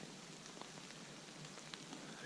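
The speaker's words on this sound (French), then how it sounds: "il pleut encore" Rain falling on a tarp at a riverside campsite along the Danube near Linz, a faint, dense patter of scattered drops with occasional sharper taps, steady and continuous with no voices.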